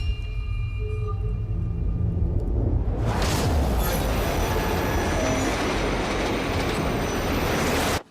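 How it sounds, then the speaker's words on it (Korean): A train approaches on rails, a low rumble that grows before a loud wash of wheel noise and squealing rails takes over as it passes close by, steady and loud until it cuts off. "기차가 와."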